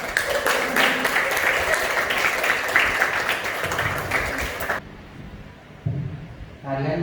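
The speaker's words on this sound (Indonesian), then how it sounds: "Tepuk tangan buat Nana." An audience claps at a Kuda Gipang traditional dance performance, a dense burst of applause lasting several seconds before it cuts off abruptly, with voices talking afterward.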